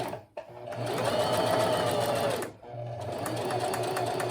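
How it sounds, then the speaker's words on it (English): A sewing machine stitches a centered zipper seam in two close, loud runs of rapid mechanical whirring separated by a brief pause, with no voices during the stitching. "Okay, I'm going to sew up to the edge and give it a nice back stitch"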